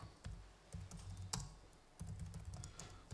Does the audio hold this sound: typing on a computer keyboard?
yes